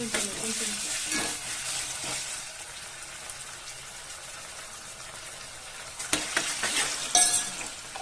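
Ginger garlic paste frying in a pan for chicken curry gives a close, steady sizzle with scraping stirs throughout, growing busier and louder with clattering strokes toward the end.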